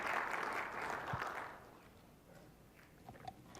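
Audience applause and cheering at a tech conference presentation, a broad crowd roar that is loud at first and then fades out over a few seconds, with faint scattered claps toward the end.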